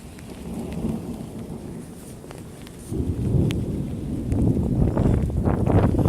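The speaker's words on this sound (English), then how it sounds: "Here comes the rain." Rain from a thunderstorm falls steadily, with faint distant rumbles beneath; the downpour swells noticeably heavier partway through and keeps building toward the end.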